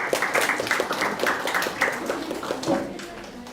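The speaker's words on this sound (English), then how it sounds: "Let's clap for them as they come." A small audience at a school parents' gathering claps for parent representatives as they come forward, a moderate, steady patter of hands under a faint background murmur.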